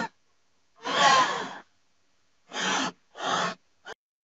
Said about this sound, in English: A gasp.